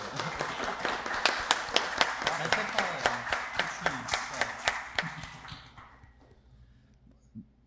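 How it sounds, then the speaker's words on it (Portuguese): An audience applauds after a panel discussion at a film debate, with rhythmic, fairly close clapping that fades out after about six seconds, and a voice begins speaking at the end. "Só depois da salva de palmas."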